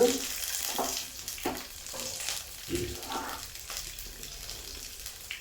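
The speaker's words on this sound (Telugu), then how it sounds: "పచ్చిమిర్చి ముక్కలు ఇవన్నీ కూడా ఒక హాఫ్ బాయిల్ అయ్యే వరకు వేయించుకోవాలి" Onions and green chili pieces fry in a pan with a soft, continuous sizzle at close range, broken by a few stirring scrapes and light knocks of a utensil, fairly quiet and without speech.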